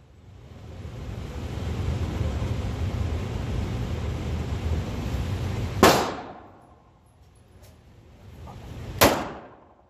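Two sharp, loud gunshots from a handgun at an outdoor shooting range, fired a few seconds apart, each with a brief decaying echo, following a stretch of steady wind-like background rumble.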